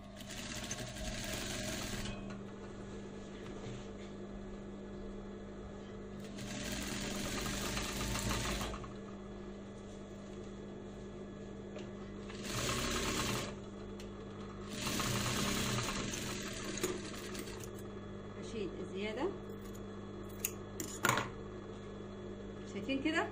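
A sewing machine stitches summer shorts in several loud, fast bursts separated by pauses, while someone talks between and over the runs.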